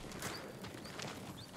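Horse hooves clip-clop softly in the Ghost of Tsushima game as a samurai horse is chosen, a faint steady patter over a constant airy background.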